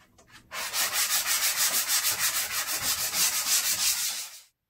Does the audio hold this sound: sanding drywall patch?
yes